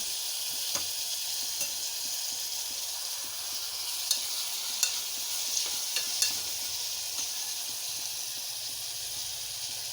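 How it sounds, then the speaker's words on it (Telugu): Onion pieces frying in a pan until brown: a continuous hissing sizzle lasting throughout, dotted with occasional small crackles and pops, close and without voices. "ఈ ఉల్లిపాయ ముక్కలు బ్రౌన్ కలర్లోకి వచ్చే వరకు వేపాలి."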